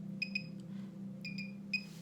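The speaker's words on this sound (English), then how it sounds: "Lift and hold until the double beep is heard." A microcurrent facial toning device sounds its double beep: two short, high, clear electronic tones in quick succession, repeated a few times over a low steady hum.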